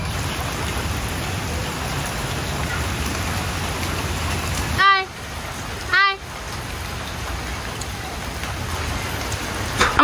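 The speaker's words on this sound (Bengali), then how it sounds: "বাহিরে কিন্তু বৃষ্টি পড়তেছে, অনেক বৃষ্টি" Heavy rain falling outside, a dense continuous hiss of drops on surfaces, close and steady, briefly interrupted by two short whistle-like tonal bursts near the middle.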